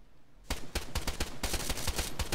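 Rapid gunfire in a video game roleplay server, a quick burst of repeated shots fired in a steady rhythm, loud and close.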